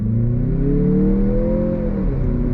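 A 2023 Mazda CX-50 Meridian Edition with a 6-speed automatic pulls away from a stop on full throttle. The engine drone climbs steadily in pitch, then dips briefly as it shifts near the end, loud and continuous with no talk.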